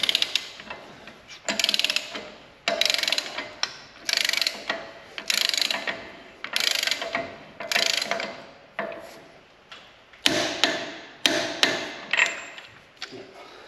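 A wrench ratchets a hub bearing nut tight on a solid axle, giving repeated clicking pulls in steady bursts, close and loud, with brief pauses between strokes.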